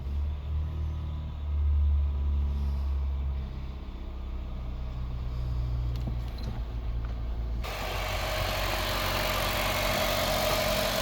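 A 2009 Honda Fit engine idles right after being started, a steady close low rumble that carries on alone with no talking, its tone shifting midway as the idle settles.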